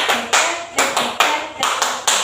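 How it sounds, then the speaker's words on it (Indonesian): A classroom of students claps together in a counted pattern, sharp, loud group claps landing in quick repeated bursts close by, about eight in a steady rhythm. "Tepuk satu, tepuk dua, tepuk tiga."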